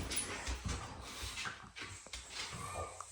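A newly arrived French bulldog whimpers and whines in short, breathy bursts close by, with some panting-like noise and faint background activity.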